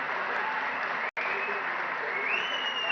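Sustained applause from an audience at a state insurance coverage MoU signing ceremony, steady dense clapping with one brief break before resuming.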